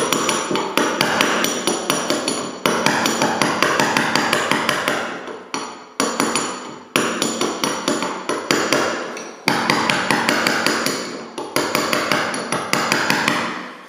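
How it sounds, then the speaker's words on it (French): Sharpened tool scraping cement off a wooden parquet floor, a steady run of sharp, rapid scraping strokes in bursts with brief pauses, close and loud with no talk. "L'idée c'est de pas prendre du bois comme avec un ciseau à bois, mais de glisser sur la couche de bois par-dessous le ciment"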